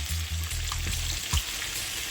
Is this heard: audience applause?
no